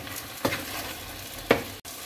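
Salted chicken pieces for Mexican tacos sizzle in a frying pan, with two distinct scraping stirs of a utensil rising over the steady close crackle.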